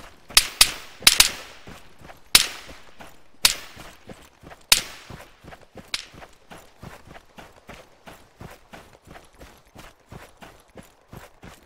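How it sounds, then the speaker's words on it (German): Gunfire in Arma 3, sharp loud shots in an irregular burst at first, then thinning to quieter scattered cracks and distant reports trailing off. "Ich werde beschossen."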